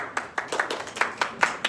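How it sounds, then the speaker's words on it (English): Light polite golf clap, about eight soft individual hand claps at an even, unhurried pace, close by and fairly quiet, with no voices over them. "Golf clap for"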